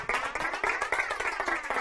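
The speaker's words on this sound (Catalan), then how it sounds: "Doncs un fort aplaudiment per als dos equips." Applause for two school teams at the end of a quiz show, a brief, steady patter of many hands clapping, fairly faint and without talk.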